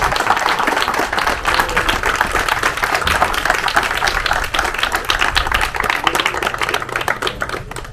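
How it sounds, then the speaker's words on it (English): An audience at a sailing championship awards gathering claps vigorously for the race committee and judges, a dense, close, fast patter of hands that carries on steadily and alone. "Please give them a huge round of applause."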